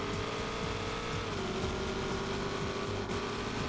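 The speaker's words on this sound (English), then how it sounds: "I feel like I'm hearing two conflicting engine sounds." Mustang engine in a racing video game on the Nürburgring, holding a loud, steady drone whose pitch dips slightly partway through, alone with no talk.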